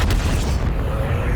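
A heavy boom as a cannon is struck by a wonder weapon in Black Ops 7 Zombies, a loud blast at the start fading into a low rumbling tail.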